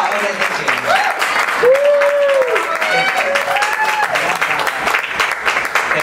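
Loud, sustained audience applause at a queer comedy and performance show, steady clapping throughout with whoops and cheers rising above it.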